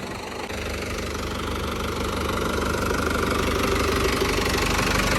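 A tractor engine runs steadily nearby in a dry field, sinking as it pulls a roller, a constant knocking diesel rumble with no pauses and no talking.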